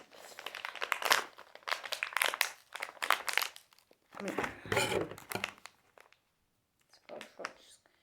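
A plastic toy packet from a Smashers Mini Light-Up egg is opened with bursts of loud, close crinkling and rustling, broken by short pauses, with a voice talking between the bursts.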